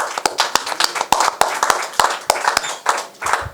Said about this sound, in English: So I'd like to give a round of applause to Amanda, Nina, and Jake for that achievement.